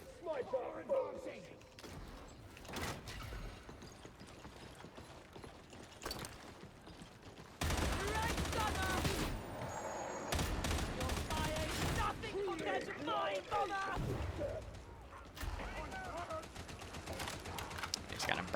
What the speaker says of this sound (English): Just gotta burst the gun, otherwise the recoil goes nuts.